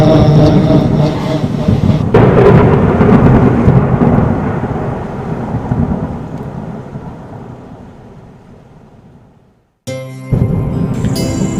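A long rolling rumble of thunder over heavy rain, slowly fading, then cutting off briefly before a loud burst of storm noise returns.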